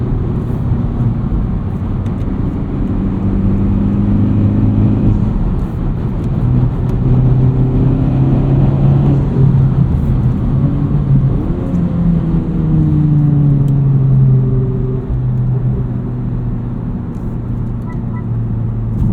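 Tuned FL5 Honda Civic Type R engine under boost, heard from inside as a loud, continuous drone that rises and falls in pitch through repeated pulls and gear changes.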